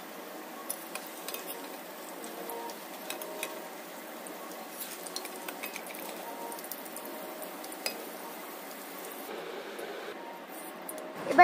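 Potatoes fry in hot oil with salt and turmeric powder for a fish curry, with a soft steady sizzle and a spatula scraping and clinking against the pan as they are stirred.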